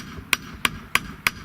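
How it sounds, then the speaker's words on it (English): A hammer strikes a metal dowsing rod lying on a flat metal surface four times at an even pace, each blow a sharp, ringing clank close by. "you can just take a hammer and a flat metal surface"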